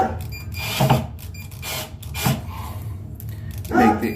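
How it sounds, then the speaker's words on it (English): Screw driven into a plastic wall anchor set in drywall, with a power driver whirring in short bursts and the screw grinding as it sinks, all under a person talking. "as you sink the screw, it goes into the anchor"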